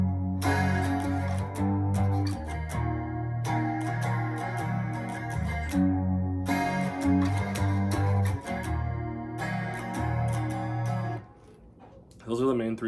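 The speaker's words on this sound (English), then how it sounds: "the whole song is pretty much based off of this main chord progression" Electric guitar with chorus effect strumming the main chord progression of a song, clear ringing chords in repeated rhythmic phrases with short pauses between, played alone and close.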